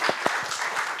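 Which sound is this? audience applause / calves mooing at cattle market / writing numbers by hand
audience applause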